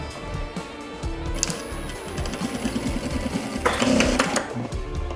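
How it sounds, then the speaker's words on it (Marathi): Sewing machine stitching a double-piping back pocket, a loud rapid mechanical chatter running continuously at close range, with a brief rise in intensity near the end. "त्यानंतर इथे आतमध्ये एक टिप मारून घ्यायची"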